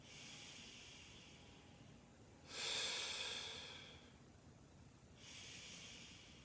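A slow, deep inhalation during a hip and low back mobility stretch, a soft airy rush swelling mid-clip and fading, with a fainter breath returning near the end in a quiet room.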